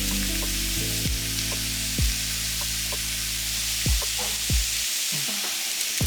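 Garlic and ginger frying in a pan for a beef curry, a steady loud sizzle with occasional soft stirring scrapes and no talking.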